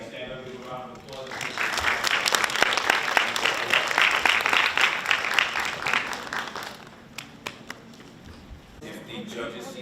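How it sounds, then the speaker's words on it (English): A standing audience at a Haitian history bee final bursts into loud applause that swells for several seconds, then thins to scattered claps and taps, with voices around it. "give a round of applause"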